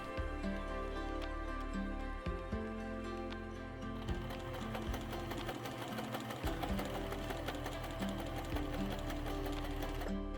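A sewing machine stitches darts on a dress bodice, a close, rapid mechanical whirring in bursts that stop and restart briefly, with the motor's steady hum running through each run.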